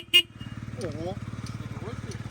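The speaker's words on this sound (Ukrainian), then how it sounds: "І красива, гарна, шумна бібіка." Horn of a Yamaha Jog SA39 ZR fuel-injected scooter, a Japanese-market model, gives one short sharp toot at the start. A steady idling engine putters underneath, and a voice is heard over it afterward.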